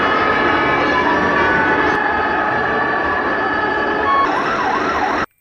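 A red toy fire truck sounds its electronic siren, a loud, steady wailing tone that runs continuously for about five seconds, shifting pitch pattern near the end before cutting off abruptly.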